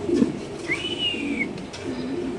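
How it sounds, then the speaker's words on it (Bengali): A male Mundian Lahori pigeon cooing at a pigeon farm, low throaty coos close by with a thin rising whistle-like note in the middle. "মাশাআল্লাহ খুব সুন্দর একটা মুন্ডিয়ান নর কবুতর আপনি দেখতে পাচ্ছেন"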